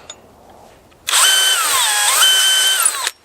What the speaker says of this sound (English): now we'll come into the vise and get our holes drilled